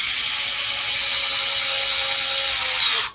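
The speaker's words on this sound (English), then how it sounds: "Let's go ahead and drill again." Power drill whirring steadily at close range for about three seconds with a sustained high buzzing tone, then cutting off abruptly, in a project built from three Dollar Tree pieces.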